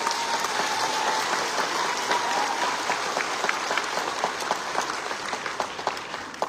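Rapid, steady hand clapping close by over a dense, noisy background, with a faint voice-like tone early on.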